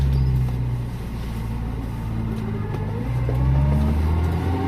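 A 1965 Seat 1500 monofaro car drives along with a steady low engine drone and road rumble filling the cabin, loud and continuous, with slight swells in engine pitch.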